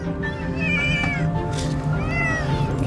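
A single kitten meows repeatedly in loud, high, rising-and-falling cries over a steady low background rumble, close by, with faint talk underneath.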